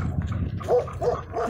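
Dogs barking and whimpering outdoors along a wooded path, several short yelps and whines in quick succession at close range, with no talking.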